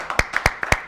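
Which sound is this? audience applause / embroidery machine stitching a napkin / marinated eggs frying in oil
audience applause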